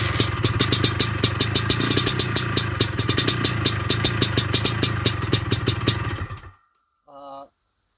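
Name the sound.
small engine running after starting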